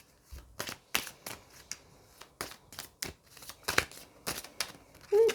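A small Petit Lenormand deck of cards is shuffled up close, with crisp, papery riffles and flicks coming in quick irregular bursts, with no talk.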